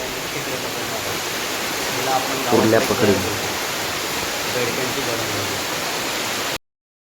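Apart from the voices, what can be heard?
heavy rain by a river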